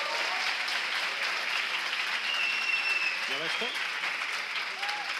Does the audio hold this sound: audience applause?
yes